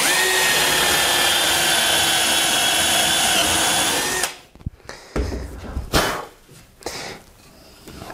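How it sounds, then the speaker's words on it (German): A power drill with a metal drill bit bores a 10 mm hole in wood, a loud steady whine that cuts off, followed by clattering and handling knocks up close. "Als Vergleich bohre ich direkt daneben nochmal ein 10er Loch mit einem Metallbohrer."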